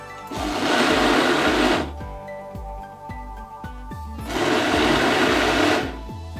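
A blender whirs in two loud bursts, blending a turmeric painkiller mixture, with a rhythmic mechanical knocking between and under the bursts.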